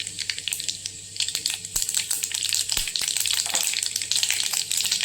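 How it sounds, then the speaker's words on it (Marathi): Mustard seeds hit hot oil for chitranna, crackling and sputtering with sharp, scattered pops over a bright sizzle that thickens after the first second and keeps going, with no talking. "तेल गरम झालंय. आता याच्यामध्ये मोहरी टाकली"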